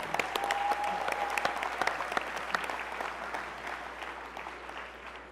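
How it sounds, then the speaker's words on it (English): Steady applause from a large audience for the 2019 graduating class at a community college commencement, continuous dense clapping throughout, loud and even with no talk over it. "give them a round of applause"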